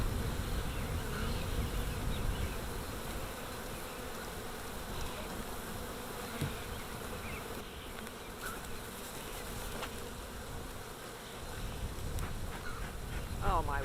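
A large swarm of honeybees on a homestead drones in a steady, dense buzz close to the microphone for the whole stretch, with faint handling noises.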